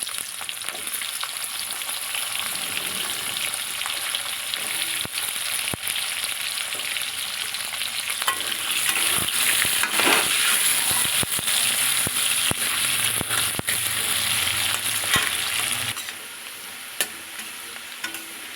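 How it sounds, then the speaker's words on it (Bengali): Potatoes frying in leftover oil after fish was fried in it, for a Bengali shol fish curry with radish. A steady, close sizzle with scraping stirs runs throughout and swells louder midway, with no talking. "এখন যে বাকি তেল রয়েছে ওই তেলের মধ্যে আলুগুলো ভেজে নেব"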